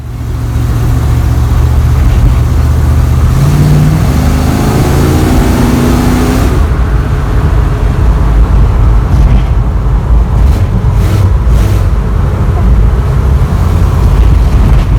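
A 1957 Chevy Bel Air engine running on the road, a loud steady mid-pitched drone with a rising rev in the first seconds, then continuous road and engine noise.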